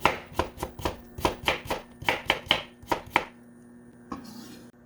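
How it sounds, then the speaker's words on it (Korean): A knife thinly slices a piece of radish on a cutting board for spicy rockfish stew, about a dozen crisp, evenly spaced chops close up, then a pause and one soft knock. "무 한 조각 얄팍얄팍하게 썰어 넣어주세요"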